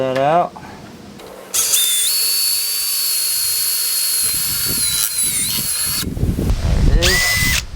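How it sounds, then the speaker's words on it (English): A power drill bores out a rivet on a thrift-store lounge chair, a loud, high-pitched whine that runs steadily for several seconds with grinding and clatter underneath, then winds down. "And drill that out."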